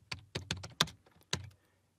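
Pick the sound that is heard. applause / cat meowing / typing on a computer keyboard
typing on a computer keyboard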